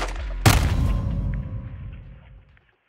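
A single sharp, loud gunshot in the war shooter Call of Duty: Modern Warfare 2 cracks close by, followed by a long rumbling echo that slowly fades away into silence.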